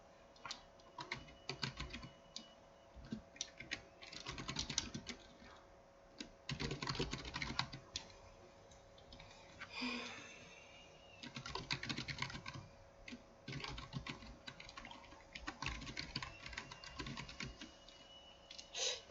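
Typing on a computer keyboard, including Shift+Enter presses: bursts of close, quiet key clicks in uneven clusters with short pauses between them.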